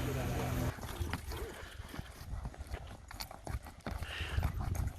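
Horses walk with a steady clip-clop of hooves on a film set at Arroyo Cantua, California. The hooves sound close and sit among outdoor wind noise and faint background voices.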